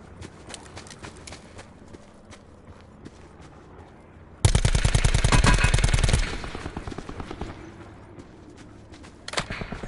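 Rapid automatic gunfire in a PS4 shooter, a loud sustained burst of fast regular shots for about two seconds mid-clip, with sparser distant shots before and after.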